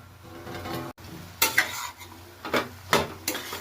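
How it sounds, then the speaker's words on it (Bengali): Bathua greens and potato curry stirred in a pan, quick scraping strokes of a spoon against the metal over a soft background sizzle, several distinct close scrapes in a few seconds without speech. "ভালো করে নেড়ে নেব।"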